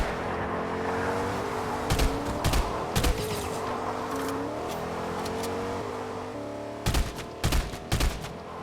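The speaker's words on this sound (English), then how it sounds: "Who's shooting at me?" Bursts of automatic gunfire in Fortnite crackle in three clusters over a steady vehicle engine drone, loud and close, with no talking.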